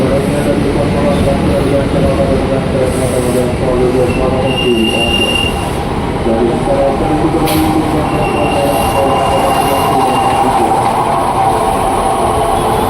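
A 10-car commuter train rolls steadily through Cawang station, a loud continuous rumble of wheels on rail with brief high squeals, close by and filling the whole stretch.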